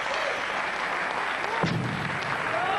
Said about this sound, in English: Yeah, a round of applause for him.